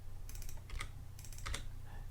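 Typing on a computer keyboard while editing shapes in Google Drawing: several short bursts of quick key clicks over about two seconds, close and fairly quiet, with a steady low hum underneath and no voices.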